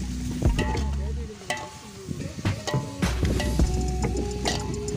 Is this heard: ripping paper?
no